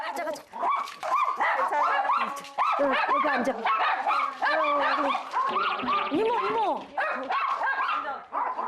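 Several dogs bark and yip continuously and excitedly at a visitor arriving at the house, one lunging and barking hard, loud and close, with brief human speech among the barking.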